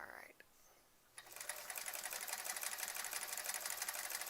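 After a brief quiet pause, a sewing machine starts up and hums steadily while stitching a sampler quilt, a fairly faint, even whir that continues to the end.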